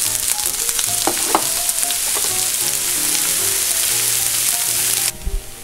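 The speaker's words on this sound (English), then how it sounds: "Now you add 1 chopped yellow onion." Chopped yellow onion frying in extra virgin olive oil, a loud close sizzle with stirring scrapes and clatter, mixed with tonal background sounds, cutting off abruptly near the end.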